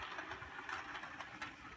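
An HO scale model train engine that has not run in a while moves along its track slightly shakily, giving a faint, continuous low rumble and whir with soft rhythmic clicks.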